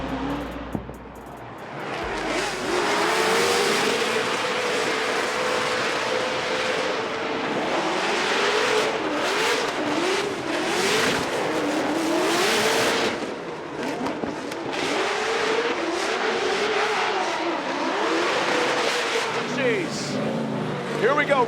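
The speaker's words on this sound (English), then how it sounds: "Odie Bakchis, that supercharged LS under the hood of the S15." A Nissan S15 drift car with a supercharged LS engine roars continuously at a championship drift event, the engine note rising and falling as it slides through the course, with commentary running over it.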